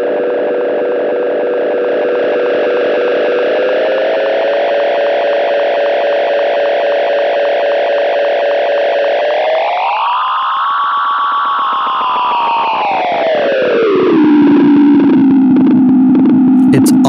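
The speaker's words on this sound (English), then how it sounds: "my favorite part of this pedal was just how nasty and dirty the repeats can get. You get this kind of crazy, spacey, infinite loop." Delay pedal self-oscillating into a dirty, spacey infinite loop: a loud sustained distorted tone that holds, swoops up in pitch, then slides down and breaks into gritty, stuttering repeats.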